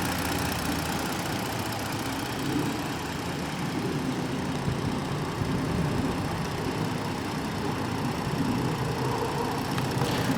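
A 2017 Ford Explorer Police Interceptor sits at idle, giving a steady low engine hum with a faint knocking texture that holds even throughout, moderately close and with no voices over it.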